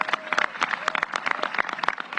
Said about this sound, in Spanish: un aplauso para los bomberos que están acá también presentes